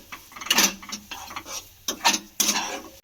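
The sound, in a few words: mixing coconut with crushed cardamom seeds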